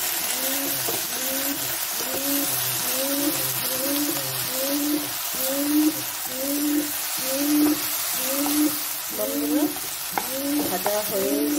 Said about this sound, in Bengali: ভেজে ভেজে শুকনো করে ভেজে নেব।